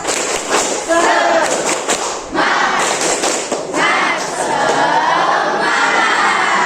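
A class of children performs the tepuk semangat clap chant, rhythmic bursts of group clapping and thumps mixed with loud shouted chanting voices, energetic and close.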